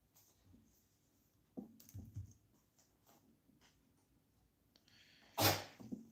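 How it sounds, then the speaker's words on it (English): A cat sneezes once, sharp and close, near the end, after faint snuffly breaths and small household noises in an otherwise quiet room. "Cat just sneezed."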